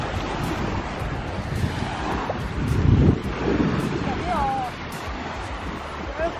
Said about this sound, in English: I don't know if the wind is going to be dramatic